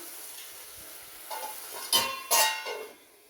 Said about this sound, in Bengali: আলু আর টমেটো অ্যাড করে দেবো। নেড়ে ছেড়ে দিতে হবে।